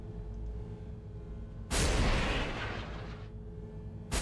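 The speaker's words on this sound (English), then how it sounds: "We're gonna go missile strike as well." A missile strike in Warhammer 40,000: Battlesector lands with one heavy booming explosion whose rumble rolls on for about two seconds, and a second sharp blast starts just as the sound cuts off, with no talk.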